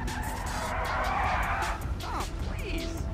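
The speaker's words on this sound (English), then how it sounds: "It sounds electric. I can't hear an engine." An electric Lotus sports car in Grand Theft Auto V drives with tyres squealing through a skid, little engine noise, steady road roar throughout and a voice talking partway through.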